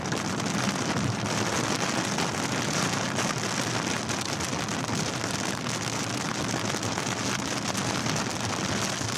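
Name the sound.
rain hitting a car while driving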